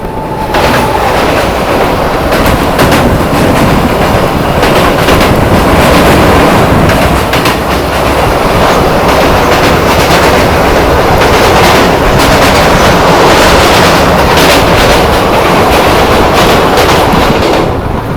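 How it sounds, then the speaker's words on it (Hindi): A Deoghar–Varanasi Vande Bharat Express rushes past during a crossing with another train, a loud, close, continuous rolling roar with rapid rhythmic clatter of wheels over rail joints lasting the whole stretch. "तो भाई यहाँ अपनी क्रॉसिंग हो रही है देवघर वाराणसी वंदे भारत एक्सप्रेस के साथ"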